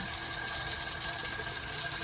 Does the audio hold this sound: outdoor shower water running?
yes